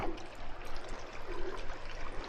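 Creek water flows steadily along a hiking trail near Fox Creek Falls, a continuous soft rushing and trickling that stays fairly quiet and even throughout, with no talking.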